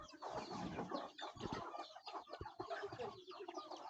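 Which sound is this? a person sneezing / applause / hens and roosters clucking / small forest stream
hens and roosters clucking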